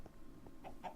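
Chickens in Minecraft clucking, a few short, faint clucks spread across a brief moment with a low background hum and no talking.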